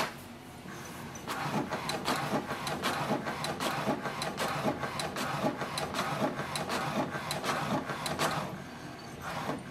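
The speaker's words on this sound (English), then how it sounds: "Wait for the printer to print a page," An HP DeskJet 2700 inkjet printer prints an alignment page, its print head shuttling back and forth in quick repeated rasping passes with mechanical clicks and whirs, close and fairly loud with no talking.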